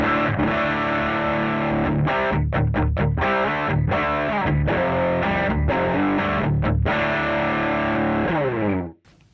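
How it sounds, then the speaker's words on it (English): Crunchy distorted electric guitar played through a simulated Marshall amp in Revalver 5 into a Mesa Boogie 2x15 cab, loud chugging riffs with rhythmic palm-muted stops, ending abruptly. "So this is what the Marshall sounds like."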